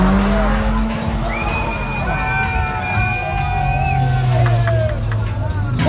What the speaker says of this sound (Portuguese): O maluco fez drift de Uno, caralho.